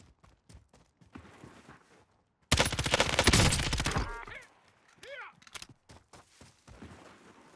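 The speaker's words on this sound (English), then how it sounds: "I hear some shots kind of over the hill" Gunfire in the Call of Duty Cold War video game, a dense burst of rapid shots lasting over a second, with scattered sharp clicks and footsteps before and after.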